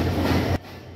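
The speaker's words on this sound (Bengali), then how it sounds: "প্রায় 1 ঘন্টা লেট করে পঞ্চগড় এক্সপ্রেস নাটোর প্রবেশ করতেছে" The Panchagarh Express pulls into Natore station with a loud, steady rumble and rattle of cars nearby, which cuts off abruptly partway through.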